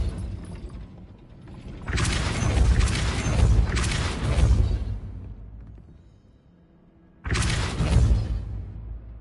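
A Depulso spell is cast repeatedly in the video game Hogwarts Legacy, with loud whooshing, rumbling mechanical blasts in three bursts, two running together and a third after a quiet gap.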